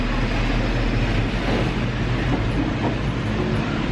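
Train sitting at Thonburi station in Bangkok before departing for Kanchanaburi, Thailand, a loud, steady rumbling drone with faint clanks, close by and continuous, with no talk.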